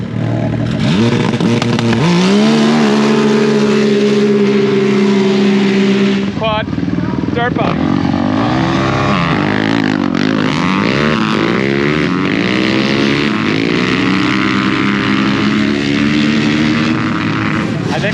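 Side-by-side UTV and dirt bike drag racing, engines roaring loudly together at full throttle, with a steady drone, a brief shift or lift midway, then continued revving under shouting voices.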